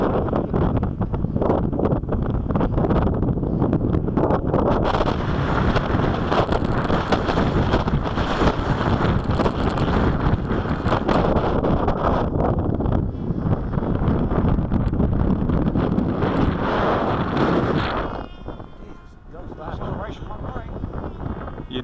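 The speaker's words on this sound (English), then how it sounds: "It makes it really hard in the wind." Strong winter wind buffets the microphone outdoors, a loud, constant rumbling roar that drops off briefly near the end, with voices partly buried beneath it.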